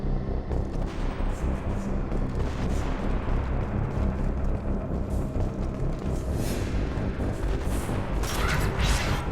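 A mech fires its weapons on a space station in the video game Mass Effect 2, a continuous rumbling barrage of booming shots and mechanical clatter, loud and dense throughout with sharper bursts near the end.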